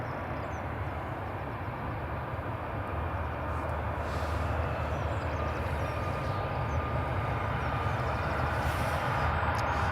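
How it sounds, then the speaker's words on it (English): An EasyJet Airbus A320 pushing back from the terminal at Edinburgh Airport gives off a steady, broad engine rumble and roar that holds at moderate distance throughout, with no voices. "EasyJet Airbus A320, I think it is just pushing back"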